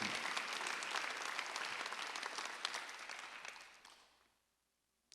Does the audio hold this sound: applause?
yes